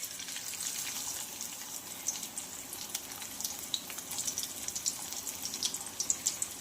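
Ginger sizzling as it is added to hot oil in a pan, a steady crackling fry with bright spattering pops that grow busier toward the end, close and without speech.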